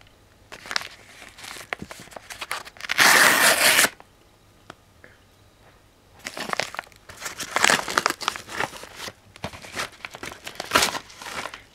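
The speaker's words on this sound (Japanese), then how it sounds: "アマゾンさんから、えっ、ー、と、メトロが届いたので、早速開封していきたいと思います。" An Amazon package holding an Xbox 360 copy of Metro 2033 is unwrapped up close in bursts of crinkling plastic and rustling packaging, one loud tearing burst then repeated crackly handling, with quiet gaps between.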